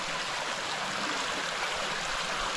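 Spring water from Binaliw Spring in northern Cebu flows steadily along a stream, a dense unbroken rush and babble that stays close and even throughout with no voices.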